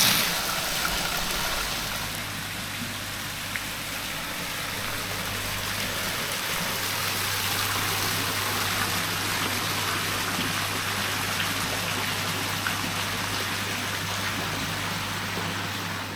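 Steady rushing water from a private villa swimming pool fills the scene, a continuous broadband splash like a pool outlet or fountain, with a low mechanical hum running underneath.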